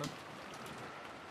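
Steady, soft hiss of heavy rain drumming against a house serves as an ambient effect in the Umineko visual novel, faint and continuous with no voices.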